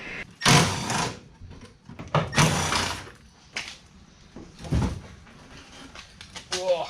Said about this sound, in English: That's a heavy door with the glass in it.